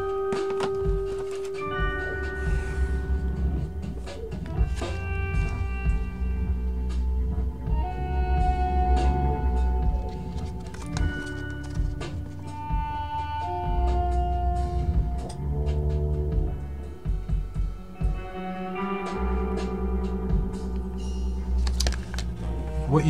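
Recorded music plays at moderate level from a fresh release, a steady stream of tonal notes and rhythmic hits with no talking over it.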